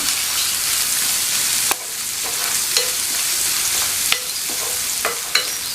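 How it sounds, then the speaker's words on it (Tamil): Ginger garlic paste and curry leaves sauté in hot oil in a pan, a loud steady sizzle with a few sharp stirring scrapes and clinks, close up and with no voices. "இஞ்சி பூண்டு பேஸ்ட் வதங்கிட்டு இருக்கும்போதே கொஞ்சமாக கருவேப்பிலை சேர்த்துக்கிறேன்."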